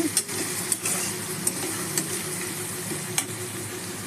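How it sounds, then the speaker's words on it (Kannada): Onions sautéing in a pan for carrot rice give a steady low sizzle with occasional sharp clicks of a spoon or spatula stirring, close and continuous with no talking. "ಈಗ ಈರುಳ್ಳಿ ಹಾಕೊಳ್ಳೋಣ ನಾವು ಹಚ್ಚಿಟ್ಕೊಂಡಿರೋ ಈರುಳ್ಳಿನ ಹಾಕ್ಕೊಂಡು ಈರುಳ್ಳಿನ ಬಾಡಿಸ್ಕೊಳ್ಳೋಣ"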